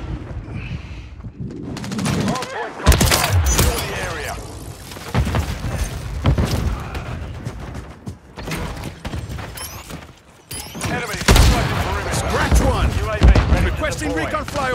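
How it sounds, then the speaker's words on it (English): Rapid gunfire and explosions in Call of Duty Modern Warfare 3 multiplayer crackle loud and close in irregular bursts, mixed with mechanical clanks and booms, while voice lines speak over the action. "I'm taking fire."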